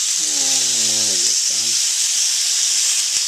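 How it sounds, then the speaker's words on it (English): Thin chicken breast slices sizzle and steam in a hot pan, a loud continuous hiss filling the whole clip while someone speaks briefly over it. "Hear that sizzle."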